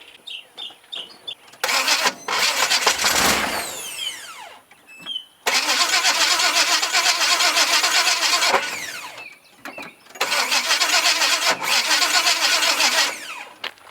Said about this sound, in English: I do feel confident at how the starter engaged when I kicked it on and off.